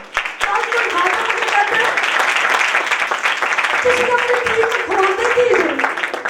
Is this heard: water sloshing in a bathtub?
no